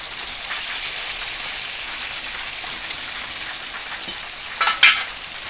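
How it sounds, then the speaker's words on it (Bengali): Paneer pieces frying lightly in a little white oil, a steady soft crackling sizzle held throughout, with a couple of brief sharper spatters near the end. "প্রথমে একটু সাদা তেল দিয়ে পনিরগুলোকে হালকা হালকা করে ভেজে নেব"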